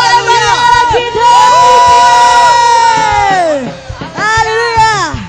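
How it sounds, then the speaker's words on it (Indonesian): A church congregation at the 38th anniversary celebration of GPPS Palu cheers and shouts praise to God, a loud, dense roar of many voices that dips briefly near the end before swelling again. "Berikan sorak-sorai bagi Allah kita."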